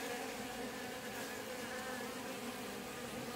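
A dense, steady hum of many bees buzzing continuously at close range around honeycomb, with no voices and no pauses for the whole stretch.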